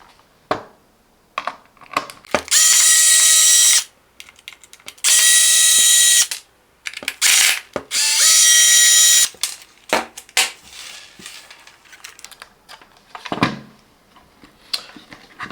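A power screwdriver or drill backs screws out of a Parkside PLGS 2012 A1 smart battery charger, three loud whirring bursts of about one to two seconds each, close by, with scattered handling clicks and taps between them.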